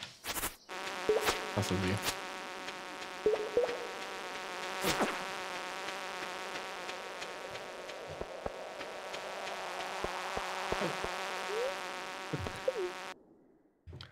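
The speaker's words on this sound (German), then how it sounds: "Oh nein, diese nervigen Fliegeviecher sind da." Flying insects buzzing in the farming video game Stardew Valley, a steady, close, droning hum that runs for many seconds with scattered clicks and game sounds. A few spoken words come briefly near the start.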